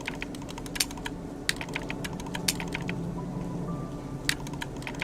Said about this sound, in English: I can still use keyboard though.